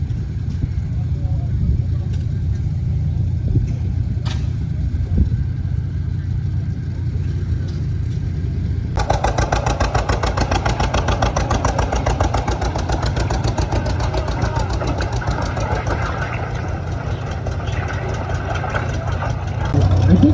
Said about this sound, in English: Some nice old engines.